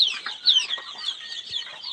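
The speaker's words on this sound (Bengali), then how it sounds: "অরিজিনালি দেশি মুরগির বাচ্চা আজ দশ দিন এগারো দিন হয়ে গেছে বয়স" Ten- to eleven-day-old desi (native) chicks on a farm, their high, dense peeping and clucking running nonstop close by with no talk.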